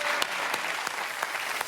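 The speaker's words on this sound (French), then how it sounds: "On peut l'applaudir très très fort." Studio audience applauding a comedian on a French TV talk show, a steady dense wash of clapping with a few sharper claps standing out, continuous and fairly close throughout.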